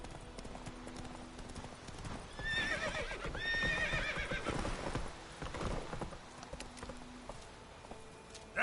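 Roach, a horse in The Witcher 3 video game, gives a long rising whinny amid steady clip-clopping hooves, close and clear over faint ambient background.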